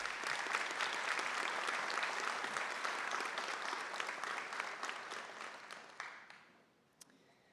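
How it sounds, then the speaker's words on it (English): An audience at a high school biliteracy recognition ceremony applauds the American Sign Language students, a fairly distant, steady round of clapping that tapers off and fades into near silence. "A round of applause for the American Sign Language students."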